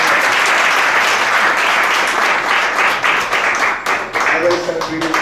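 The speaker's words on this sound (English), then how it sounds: "Big round of applause for everyone." Loud, sustained round of applause from a temple congregation at a Hare Krishna gathering, continuous clapping with slight swells and dips throughout.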